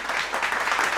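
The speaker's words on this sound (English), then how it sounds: "our contestants who put in so much effort past few days deserve a huge round of applause" Brief burst of dense audience applause at a beauty pageant finale for contestants, a continuous wash of many hands clapping together, loud and sustained for the full second.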